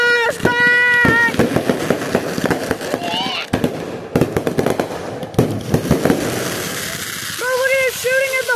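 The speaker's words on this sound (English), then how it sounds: "Flashbang!" Fireworks-like bangs and crackling bursts go off one after another, loud and close, with whooshing whistles at the start and end. Excited voices shout over the blasts.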